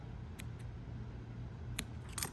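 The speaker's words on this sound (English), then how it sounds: "Might have to cut this at a little angle." Scissors snip metallic waxed cord at an angle in a few quick, close, sharp clicks against a low background hum.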